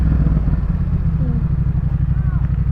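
Yamaha MT-07 motorcycle fitted with a Jeskap K4 exhaust while riding, a loud deep throbbing engine drone pulsing steadily throughout the short stretch, close up, with a voice heard briefly over it.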